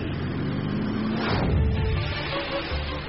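A 400-horsepower transport truck hauling 20,000 kilos of oranges rumbles past. Its heavy engine drones steadily and swells briefly as it goes by, with no voices.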